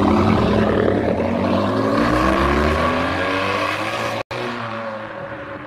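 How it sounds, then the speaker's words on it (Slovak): A yellow car's engine runs steadily with a smooth, even hum and a slight rise in pitch, close and fairly loud, with a brief dropout near the end and no talking. "Slnko svieti, motor pradie a ja som spokojný."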